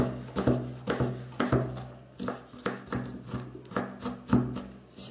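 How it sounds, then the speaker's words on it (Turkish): An onion being finely chopped with a knife on a board in a home kitchen, the blade striking in a steady run of crisp, close taps with short pauses between bursts. "Şimdi soğanımızı doğrayarak devam edelim."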